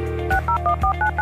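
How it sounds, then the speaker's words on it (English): Touch-tone telephone keypad dialing: a quick run of crisp dual-pitch beeps in an uneven rhythm, loud and close with nothing else behind them. "have made it as easy as dialing the phone."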